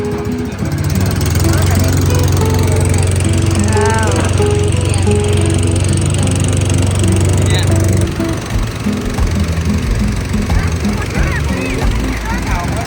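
A loud, steady motor drones throughout, rough and chugging like a boat engine running close by, with faint voices in the background.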